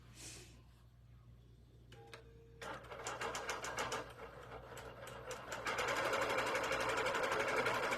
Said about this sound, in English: it is starting to sew the design out now